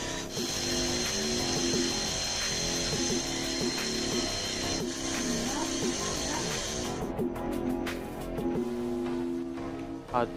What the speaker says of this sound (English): First, you must drill hole right there on the wood.